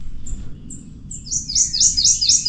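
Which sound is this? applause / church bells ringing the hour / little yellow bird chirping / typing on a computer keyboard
little yellow bird chirping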